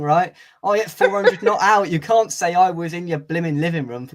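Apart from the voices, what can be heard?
No everyday noises stand out.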